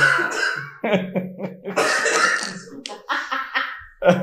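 A person coughs several times in short bursts, mixed with throat clearing and a little laughter. The coughs are loud and close, with brief pauses between them.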